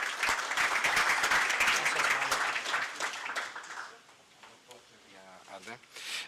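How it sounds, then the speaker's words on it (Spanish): Audience applause for the panelists at a meeting, a dense burst of clapping filling the room for several seconds before thinning out as a voice begins speaking over the last scattered claps. "quiero darle un aplauso y un agradecimiento a los panelistas."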